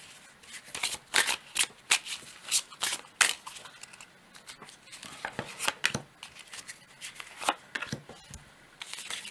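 Tarot cards being shuffled, a rapid series of crisp riffling and flicking bursts repeating close up with brief pauses between them, no talk.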